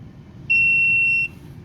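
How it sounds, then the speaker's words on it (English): The brake warning alarm on a 2000 Volkswagen Beetle dashboard gives a single clear, steady electronic beep lasting under a second, close and loud over a faint low background rumble. "Alarm sounds, that little light right there."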